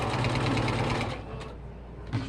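A home sewing machine stitches fabric pieces for a toy airplane, running in a fast, even buzzing rhythm for about a second, then slowing and stopping, with a small mechanical clack near the end.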